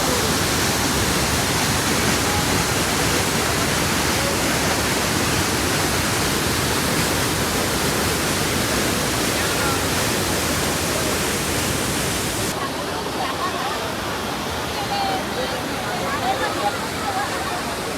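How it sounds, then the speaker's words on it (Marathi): The Randha waterfall in Maharashtra roars as a steady, dense rush of falling water for the whole stretch, loud and unbroken, with a slight shift in tone partway through. "महाराष्ट्रातील सर्वात फेमस असलेला वॉटरफॉल रंधा धबधबा"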